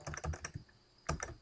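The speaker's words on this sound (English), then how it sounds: "Now student name we type here Anita," Typing on a computer keyboard, heard close and fairly quiet: two quick bursts of several keystrokes separated by a short pause.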